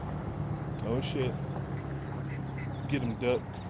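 A duck gives a few short raspy quacks in two brief bursts, heard against steady outdoor background noise at moderate distance.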